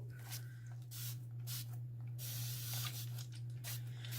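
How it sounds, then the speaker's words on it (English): Soft, intermittent hissing bursts of a spray can spraying over resin, above a steady low electrical hum, quiet and close, with no talking. "I'm going to just spray those real good on top."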